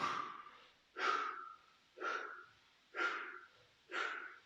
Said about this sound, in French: Là aussi, soufflez à chaque extension.